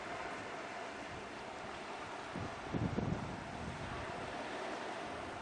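Wind blows across open water offshore, a steady broad rushing with a brief louder gust near the middle, and no voices.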